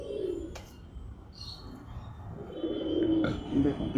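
Pigeons in a pigeon loft coo softly and repeatedly against a constant background hum, with faint voices in the distance.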